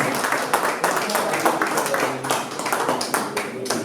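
Audience applauding at an event, brisk, uneven clapping with sharp individual claps standing out, fairly close and sustained across the whole stretch.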